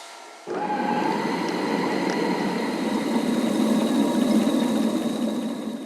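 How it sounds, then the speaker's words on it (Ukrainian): An Italian flour mill starts up with a sudden onset, then runs on as a steady, loud mechanical drone with a constant hum and faint high whine, no voices over it. "Це італійський млин, ікона стилю, і будемо запускати."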